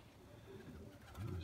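Soft, low pigeon cooing in a winter loft where pigeons are kept, faint and somewhat muffled, swelling a little toward the end.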